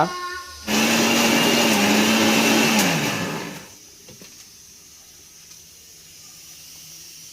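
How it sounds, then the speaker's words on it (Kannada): A mixer grinder grinds masala spices, including coriander, for a goat leg soup, roaring loudly for about three seconds with a steady motor whine that dips in pitch as it winds down, then gives way to a quiet room. "ಮಸಾಲೆ ಐಟಮ್ಗೆಲ್ಲ ರುಬ್ಕೊಳ್ಳೋಣ"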